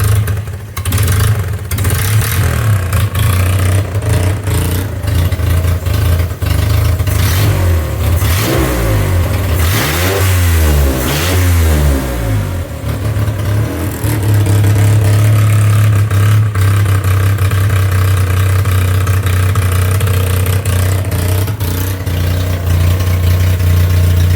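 A Mitsubishi U15T-HFD compact tractor engine with a slightly sticking throttle idles with a steady low chug, then revs up and down in a few rising and falling bursts midway before settling back to a loud, even idle, close up with no talking.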